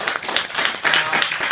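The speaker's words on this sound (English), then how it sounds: "Let's give them a round of applause" An audience claps for a volunteer on stage, giving dense, steady applause with many hands at once and some rising swells.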